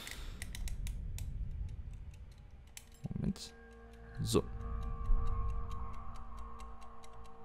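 An egg timer on a desk ticks steadily and close by, its crisp regular clicks continuing under brief male speech and a couple of handling knocks.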